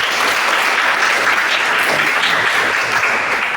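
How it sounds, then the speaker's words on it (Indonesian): Classroom applause in a high school history lesson, a dense burst of student clapping that stays steady and fairly loud for a few seconds with no talking over it. "tepuk tangan buat Iwan."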